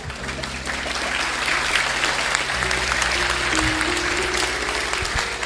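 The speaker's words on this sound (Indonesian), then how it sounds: "silakan tepuk tangan" A large crowd claps at a public event in Mojokerto with the mayor and police chief present. The applause is dense and sustained for several seconds at a fairly loud level, with steady low music playing underneath.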